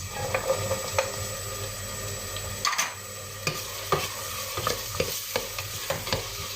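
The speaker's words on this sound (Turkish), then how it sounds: "Havuçlarımız da kavrulurken" Carrots sizzle in a hot pan while a utensil stirs and scrapes them, with repeated sharp clicks over a continuous frying hiss.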